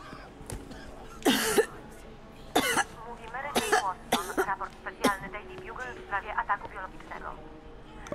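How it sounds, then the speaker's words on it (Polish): A game character in the Spider-Man video game coughs up blood, with harsh bursts of coughing and throat clearing scattered between stretches of nearby talk. "Ojoj, trochę kurwa kaszlą krwią."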